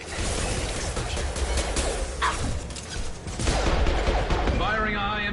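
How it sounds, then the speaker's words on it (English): Game gunfire from Mass Effect 2 rings out through a dense mix of combat effects and music, shots blending into a busy battle soundscape with crashes and sweeping noises throughout. "Firing a high-impact shot."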